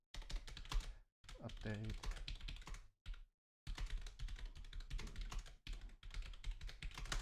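Fast, quiet typing on a computer keyboard produces a dense patter of soft key clicks in several runs with brief pauses, and a voice speaks briefly partway through.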